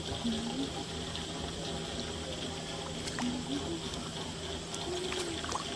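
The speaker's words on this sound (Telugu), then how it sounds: "వాటరు పైన కొండ నుంచి వాటర్ పడతా ఉంది" Water falls from a hill in a continuous rush, steady and fairly close, with faint chirping birds calling occasionally over it.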